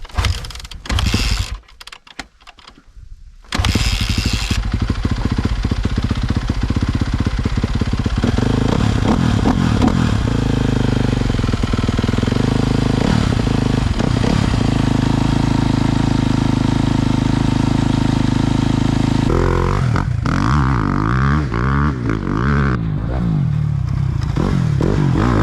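A motocross motorcycle ridden by a 62-year-old former racer starts after a few seconds of quiet, then idles loudly and steadily while warming up, with a rising throttle blip and some clatter near the end.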